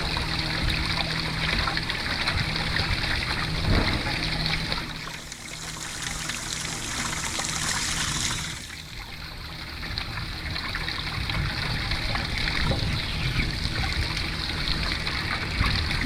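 Steady rushing trickle of water draining from a Suburban SW6DE RV water heater tank during flushing, splashing continuously, close by, with a brief shift in tone midway; no talking.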